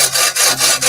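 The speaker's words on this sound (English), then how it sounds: "I'm chopping a piece of wood by hand. I'm doing it the traditional way." A hand saw cutting through a piece of wood by hand, steady back-and-forth strokes repeating about three times in under a second, close and loud with no talking.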